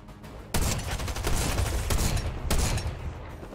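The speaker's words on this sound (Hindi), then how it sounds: "शॉटगन चला रहा हूँ।" Shotgun firing in the Stumble Guys video game, a sharp loud blast followed by a rapid rumbling volley of gunfire with another heavy hit partway through.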